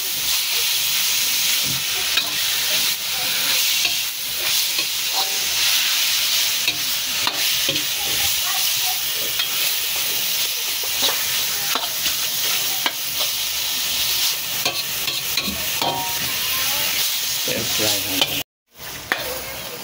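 Meat frying in a hot wok (kawali) with garlic, a loud steady sizzle running throughout while a utensil stirs and scrapes in frequent close strokes.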